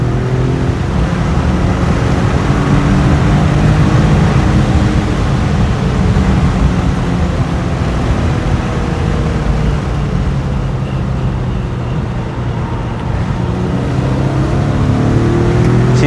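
An Infiniti G37 sedan's engine droning loud and steady from inside the car during a driving test, a continuous low rumble with gently shifting pitch as it accelerates, no talking over it.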